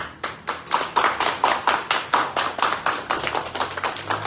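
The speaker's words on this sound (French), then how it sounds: "Oui, une fois de plus, veuillez l'applaudir s'il vous plaît." Sustained applause from an audience at an honour ceremony for the retiring director of the Lycée de Roche-à-Bateau, steady dense clapping throughout, fairly close and loud, with no talk.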